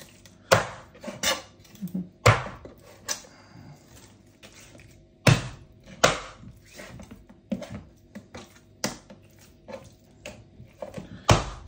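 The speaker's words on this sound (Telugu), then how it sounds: "బోన్స్ త్వరగా కట్ చేసేసుకుందాము." Chicken bones being chopped with a knife on a board, with a run of loud, sharp chops at irregular intervals and softer knocks and scrapes between them.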